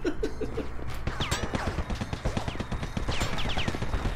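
MP5 submachine guns firing in the game Drake of the 99 Dragons: loud, dense rapid bursts of automatic fire crackling continuously, with crashes and impacts mixed in and no talking.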